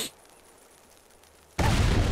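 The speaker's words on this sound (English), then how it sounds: "the sound of the explosion gave us cover to shoot" Loud explosion bursts in at the end of a quiet stretch in Sniper Elite 4 co-op on the Graveyard map, a broad roaring blast that holds for the final half second after near silence.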